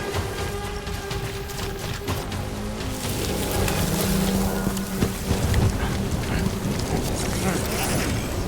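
Rain in the Death Stranding video game falls in a steady, dense patter with low rumbling undertones, growing slightly heavier midway and mixed with game ambience and music.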